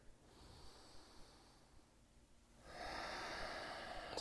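Slow audible breathing during a hip stretch, a long quiet breath followed by a louder, airy exhale close to the microphone.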